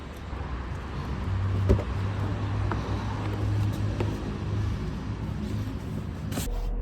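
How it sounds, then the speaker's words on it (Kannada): A 2025 BMW X5 or X7 diesel engine idles after starting with a low, steady, subdued hum and a faint rumble. It stays even and quiet throughout, with a couple of small clicks. "ಓಕೆ, ಸ್ಟಾರ್ಟ್ ಆಗಿದೆ ಗಾಡಿ. ಆ್ಯಂಡ್ ಡೀಸೆಲ್ ಆದರೂ ಕೂಡ ಬಾಸ್ ದ ಕ್ವೈಟ್ನೆಸ್ ಆಸಮ್."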